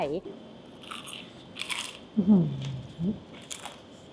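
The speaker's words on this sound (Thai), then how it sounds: "เสียงมันเพราะมาก ก็ดูความกรอบของตัวหนังดิ" Crispy skin of a German-style pork knuckle made from Kurobuta pork is bitten into at a steakhouse, producing a few short, sharp crunches close up while someone talks around them.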